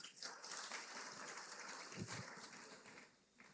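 Applause from a graduation ceremony audience at Dinthill Technical High School, a steady broadband patter of hands that carries evenly throughout and tapers slightly at the end.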